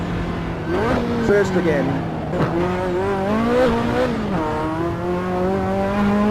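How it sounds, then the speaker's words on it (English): A Ferrari F40 engine in the Assetto Corsa racing game revs high through the gears, a loud harmonic wail that climbs and dips with each shift while someone speaks briefly over it. "And that Ferrari just sounds so beautiful at high RPM."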